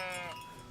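A single short sheep bleat in the medieval game Kingdom Come: Deliverance, wavering and fairly faint, with no talking over it.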